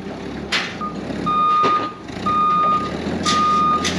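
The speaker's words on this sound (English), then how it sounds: "This vehicle here has just pulled up and it started offloading." A truck pulled up and offloading sounds a series of evenly spaced reversing beeps over its idling engine, with brief louder thumps and clatter from the unloading in between.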